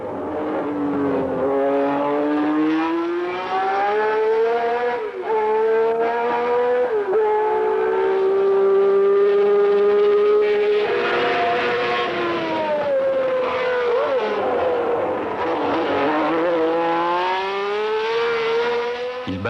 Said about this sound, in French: Jacques Lafitte, champion d'Europe de Formule 2, s'élance sur le circuit du Castellet en Provence.